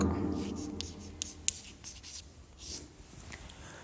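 Chalk or a marker scratches across a classroom board during a science lesson in short, uneven strokes and taps, close and fairly quiet, with faint room noise between them.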